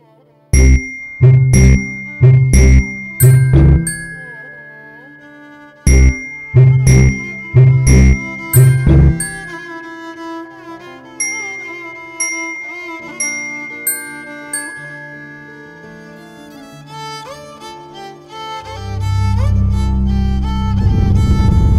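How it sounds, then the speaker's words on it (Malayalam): A mobile phone's chiming ringtone plays a bright repeated bell-like melody, loud and close, with rhythmic struck notes giving way to a softer melodic run before a low rumble rises at the end. "എൻ്റെ മൊബൈൽ റിങ് ചെയ്യുന്നു തോന്നുന്നു"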